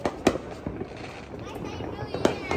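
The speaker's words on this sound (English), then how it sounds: "fireworks" New Year's fireworks bursting outdoors, a few sharp cracks and booms spaced apart over a background of distant crackle, with people's voices cheering and talking around them.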